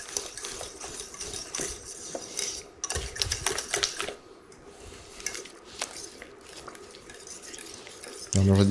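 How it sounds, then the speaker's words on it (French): Butter is stirred into vanilla mousseline cream, producing soft, irregular scraping and tapping of a utensil against a bowl, fairly quiet and close, ending with a louder knock. "On mélange délicatement parce que le beurre, il saute un peu."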